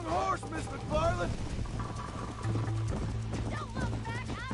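Horse hooves clip-clopping along in Red Dead Redemption, steady and mid-distance beneath almost constant talking voices, with some wind or rushing background noise.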